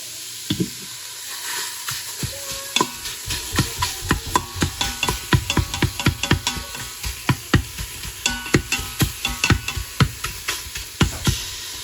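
Italian sausage browns and sizzles in an Instant Pot on the saute setting, with frequent sharp spoon scrapes and clacks as the meat is stirred, close and steady over a constant frying hiss.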